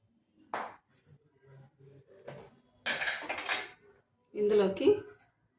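A metal spoon clinks against a mixer jar several times as cumin seeds are tipped in, sharp scattered taps and scrapes separated by brief pauses, close and fairly clear with no voices.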